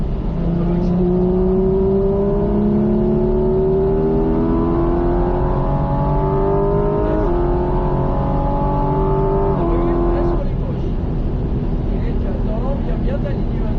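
A Porsche 718 GT4 RS accelerates on the Haute Saintonge circuit, its engine note climbing steadily through several gear shifts, loud and continuous from inside the car, with a driving instructor talking over it.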